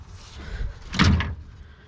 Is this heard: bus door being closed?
yes